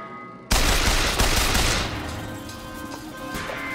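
Gunfire from the repeater weapon in the video game Bioshock Infinite erupts in a loud sustained burst of rapid shots, then trails into ongoing clattering combat noise.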